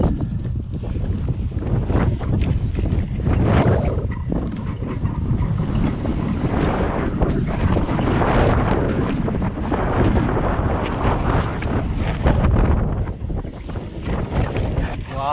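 Strong wind buffets the microphone in a continuous low rumble on a mountain bike trail in Sedona, rising and falling in loud gusts throughout.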